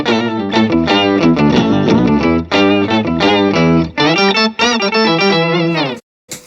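Electric guitar through a Moore octave pedal, a clone of the Electro Harmonix Nano Pog, playing a loud phrase of sustained chords and single notes with thick doubled octaves, ending in a brief silence and a final pluck.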